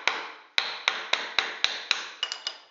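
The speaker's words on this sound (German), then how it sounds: "Zuerst spalten wir das Holz" A piece of branch taps repeatedly on a knife's back to split wood for carving a spoon, giving eight sharp, evenly spaced knocks, close and loud, each with a short ringing decay.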